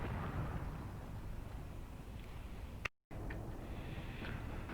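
Incendiary ammunition fires in the Graviteam Tactics war game, a steady low rumbling of distant bursts and impacts with a few sharper cracks, broken by a brief total dropout, no voices.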